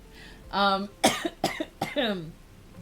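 A few harsh coughs in quick succession, close and fairly loud, with a voiced throaty sound before them.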